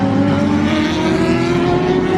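Race cars at the 2018 Rolex 24 at Daytona roar past at speed, a loud continuous blend of high-revving engines heard from trackside with no pauses.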